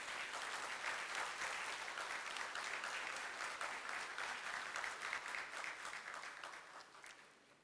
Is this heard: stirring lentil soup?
no